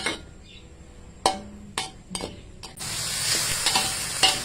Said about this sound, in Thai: เดี๋ยวเราให้หมูสุกกับมะเขือสุกก่อนนะ